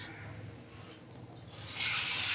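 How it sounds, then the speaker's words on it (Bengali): Water pours into a pot of daliya on the stove. A soft trickle builds into a brighter, steady splashing hiss over the final second, over quiet kitchen background. "আমি অল্প জল দিয়ে দিচ্ছি"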